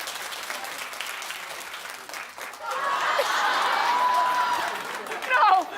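A television talk show studio audience breaks into sustained applause, swelling after a few seconds of murmuring crowd noise, with a brief louder burst near the end.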